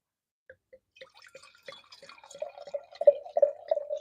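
Red blend wine poured from a freshly opened bottle into a glass, a run of small drips and splashes that builds into a steady, close trickle, with no voices.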